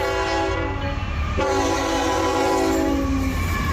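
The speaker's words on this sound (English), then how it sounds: "This is a pretty fast train." A train rumbles past close by, its horn blaring in long sustained tones over the steady roar of the cars.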